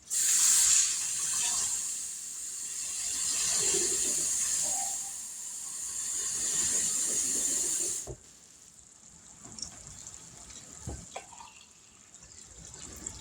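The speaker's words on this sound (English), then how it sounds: "and then pour in some cold water." Cold water poured into a container for a Hamburger Helper Salisbury mix, a loud, steady hissing pour of about eight seconds, then quieter drips and splashes.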